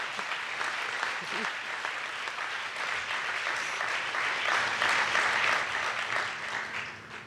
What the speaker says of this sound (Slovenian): Jaz predlagam, da še enkrat zaploskamo.